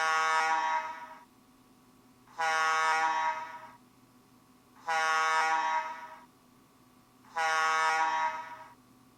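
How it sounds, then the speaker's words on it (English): A sour gas alarm air horn at a sulphur plant sounds four long, loud, steady blasts with gaps of about a second between them, a harsh, reedy tone carrying alone without voices. "The sour gas alarm sounds like this."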